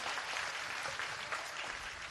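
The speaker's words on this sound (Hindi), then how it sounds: "थोड़ी सी तालियों के माध्यम से बताइए ना।" Dense, sustained applause from a gathering at a Jain Nandishwar Mahamandal Vidhan ceremony in Shahpura Bhitoni, with many hands clapping steadily and close.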